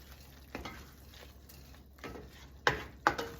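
Butter being stirred into a sizzling vodka sauce for beef farfalle, a steady soft sizzle with a few louder scraping strokes of the spoon in the pan near the end.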